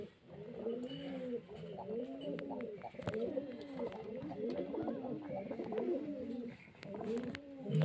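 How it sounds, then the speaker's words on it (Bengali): Racing pigeons at a home loft coo steadily, several birds overlapping in soft rolling phrases throughout, close and fairly quiet. "এই যে খুব সুন্দর বাজির পায়রা"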